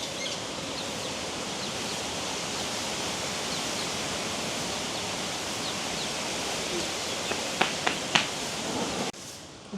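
Palmyra fruit fritters fry in boiling coconut oil with a steady, dense sizzle and hiss close by, with a few small pops near the end.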